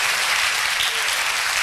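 Congregation applauding at a church congress, a dense steady wash of many hands clapping throughout, loud and continuous with no talk on top.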